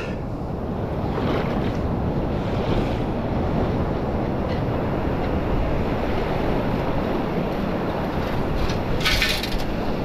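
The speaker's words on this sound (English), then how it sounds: "the waves were small 5 minutes ago. Now they're persistent." Ocean surf breaking on a beach, a steady, loud wash of churning waves with gusty wind buffeting the microphone throughout, and no voices.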